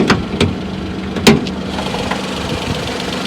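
A Maruti Suzuki Alto engine idles with a steady low hum, broken by a few sharp clicks near the start.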